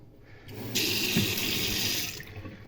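Water gushes from a tap on a newly installed central water supply in a private house, a steady rushing stream that starts abruptly, runs for about a second and a half, then shuts off.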